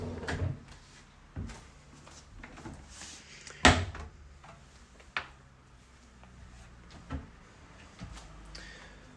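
Kitchen drawers in a rented flat open and close in a series of sharp knocks and slides, with one loud clunk standing out, heard close in a quiet room with no talking.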